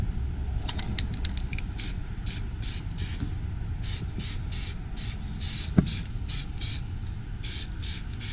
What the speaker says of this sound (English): So we're going to spray on a light coat here.